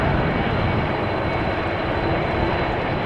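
Airbus A330 jet engines at Amsterdam Schiphol airport, a loud, steady broadband roar that holds constant throughout without pauses, heard from nearby.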